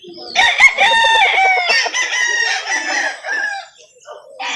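Rooster crowing at a live chicken market, a loud close crow with harmonic rise and fall followed by clucks and fowl calls, with faint voices at the end.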